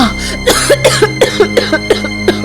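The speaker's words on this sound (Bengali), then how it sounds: "কাশিটা কিছুতেই কমছে না" A woman coughs in a rapid series of about eight harsh, close coughs with short gasps between them, loud and alone.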